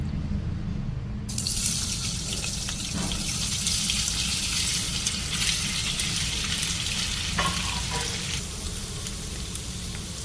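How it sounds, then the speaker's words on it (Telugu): Paneer pieces fry in oil in a pan for a paneer butter masala curry, giving a steady, close, broadband sizzle that swells after the first second and runs on without talk. "ఇప్పుడు ముందుగా ఆయిల్ వేసుకున్నాం పన్నీర్ కొద్దిగా ఫ్రై చేసుకుందాం"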